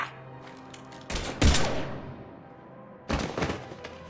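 Gunfire in the sci-fi video game Mass Effect 3: two loud, close bursts of rapid shots with booming impacts, separated by a quiet gap and fading tails.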